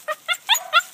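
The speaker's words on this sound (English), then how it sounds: "the papillon I'm fostering" A papillon dog gives five quick, high yips and whimpering barks in rapid succession, close and fairly loud, with no talking.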